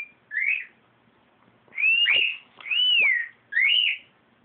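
Pet birds whistle in four separate bright phrases, each a rising and falling note with a small dip, heard close and clear against a quiet room with no talking.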